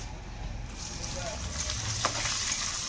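Chopped onions hit hot oil in a pan, giving a steady, close sizzle and crackle that holds for the whole stretch, with a faint stirring scrape near the end and no talking.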